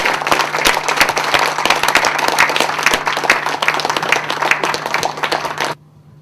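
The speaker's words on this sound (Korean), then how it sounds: "INGO, WGCA, NCC, 힘찬 박수로 환영해 주시기 바랍니다" Hearty applause from an event audience welcoming guest organisations, dense continuous clapping that stops abruptly near the end, leaving a quiet room.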